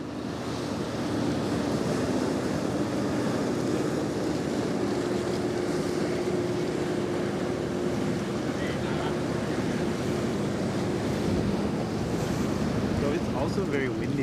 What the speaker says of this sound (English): also very windy right now